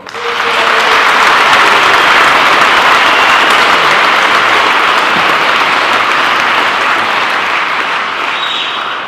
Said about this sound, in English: round of applause for the East side